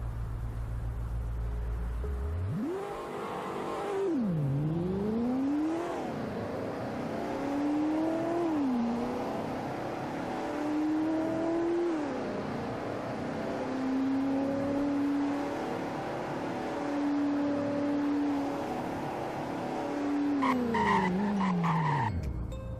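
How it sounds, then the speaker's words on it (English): A car in the Roblox game Greenville runs a 0 to 100 braking test: the engine revs rise and fall through repeated gear shifts, ending with a skidding tire squeal as it brakes, with no talking. "Here is a 0 to 100 in braking test."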